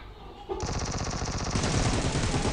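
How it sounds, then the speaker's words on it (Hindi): Sustained automatic gunfire from a mobile shooter game played on an iPad Mini 5, loud and continuous, starting abruptly after a quieter moment and rattling on without pause. "क्योंकि गोलियाँ शोलियाँ वहाँ पे चल रही हैं"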